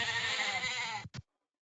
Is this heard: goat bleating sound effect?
yes